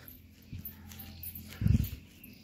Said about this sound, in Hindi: कुत्तों को यहाँ से भगा रही है